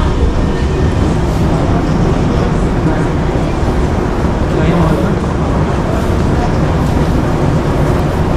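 Paris metro train on Line 1, riding along with a loud, continuous rumble and rushing roar of the carriage throughout, steady and close.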